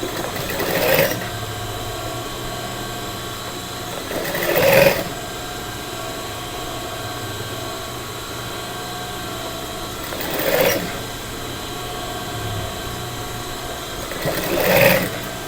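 Sewing machine stitching a collar, heard in four short bursts of whirring stitches separated by pauses, close and clear over a steady background hum, with no talking.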